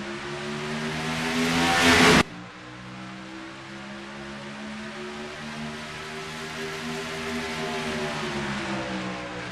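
NASCAR Cup Series stock cars roar off at the start at Texas Motor Speedway, a loud dense engine blare that breaks off abruptly and gives way to a steady, slightly rising drone of the field pulling away.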